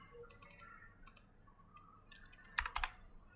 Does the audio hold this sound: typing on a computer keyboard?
yes